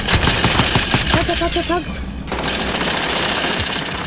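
Rapid automatic gunfire in a multiplayer shooter, loud and close in dense bursts, with players talking over it.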